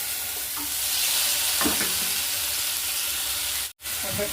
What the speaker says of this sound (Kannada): ಒಗ್ಗರಣೆ ಆಗಿದೆ. ಕಡಲೆಕಾಳು ಹಾಕೋತೀನಿ. ಇದಕ್ಕೆ ಕಡಲೆಕಾಳು, ಬೆಂದಿರೋಂಥ ಕಡಲೆಕಾಳು